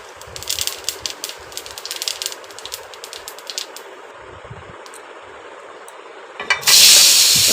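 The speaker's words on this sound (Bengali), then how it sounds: "এবার আমি একটা শুকনো লঙ্কা আর মৌরি ফোড়ন দিয়ে দেবো" Dry red chilli and fennel seeds crackle and sizzle in a little hot oil in a pan, a fine rattling spatter close by that settles into a steady hiss and ends in a sharp burst of sizzling.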